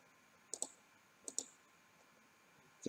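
Mouse clicks in a software interface: two quick double clicks a moment apart, then a softer single click at the end, close and crisp over a quiet background hiss.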